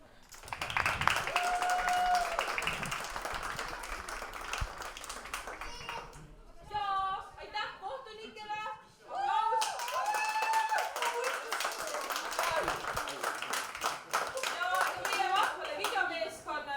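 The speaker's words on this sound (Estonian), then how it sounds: "Ja teeme siis meie kasvatajatele, juhendajatele ka ühe suure vinge aplausi." An audience at a lakeside music camp applauds, with dense, sustained clapping that pauses midway while voices talk and shout, then resumes loudly and continues to the end.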